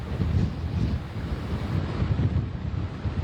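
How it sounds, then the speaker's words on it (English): Strong wind buffets the microphone as waves surge and break along a coast, a loud, steady roar of gusts and surf with no voices. "the winds really picked up, and you can see the waves are reacting to that as I speak"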